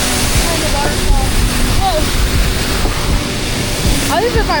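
A waterfall in Puerto Rico rushes as a loud, constant broadband roar close by, with brief faint voices partly buried under the water.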